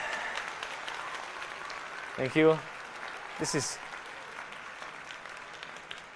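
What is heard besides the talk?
audience applause at awards ceremony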